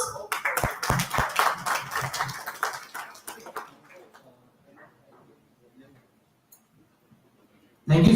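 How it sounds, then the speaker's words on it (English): Clapping from a small audience at a summit award ceremony, a cluster of distinct claps that quickly thins out and fades to near silence, followed by a sudden loud burst at the very end. "A big round of applause."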